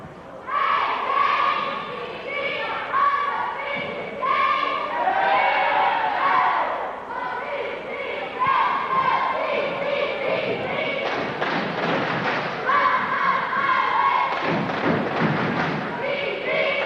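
Cheerleaders performing on the court at a 1988–89 girls' high school basketball game, Gate City versus Virginia High, with chanting voices, rhythmic thumps and crowd noise echoing in a gym.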